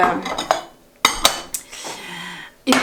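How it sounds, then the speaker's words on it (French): Dishes and cutlery clink and clatter as a home dishwasher is emptied, with sharp irregular knocks of crockery and metal utensils, close and fairly loud, with pauses between handling. "je vide mon lave-vaisselle"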